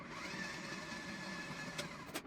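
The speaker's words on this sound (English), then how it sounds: "So we're starting with some butter in our mixer that will go ahead and soften" A stand mixer steadily beats butter for gingerbread cookie dough, a continuous even motor whir with a couple of brief knocks near the end, no voices.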